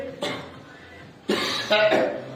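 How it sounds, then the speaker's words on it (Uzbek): Several short, sharp coughs close by during breathing exercises, in uneven bursts separated by brief pauses. "yo'tal kesib yo'tal oringlar"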